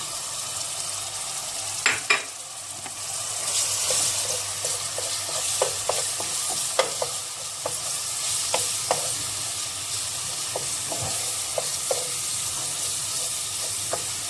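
Tomato paste and onions frying in oil and stirred in a pot, a steady bright sizzle punctuated by repeated spoon scrapes and taps, close and alone.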